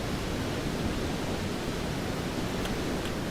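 Waterfall in a video game, a steady, loud, even rush of falling water that holds without change the whole time, with no voice over it.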